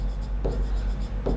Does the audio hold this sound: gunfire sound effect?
no